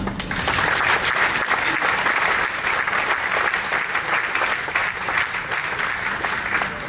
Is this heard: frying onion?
no